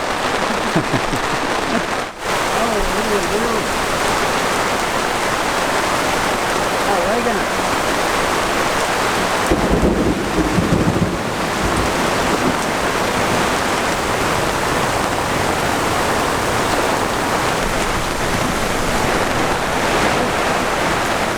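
Heavy rain pours steadily around a sailboat during a lightning thunderstorm, a dense continuous hiss of drops on water and deck, with a brief low rumble or thud near the middle.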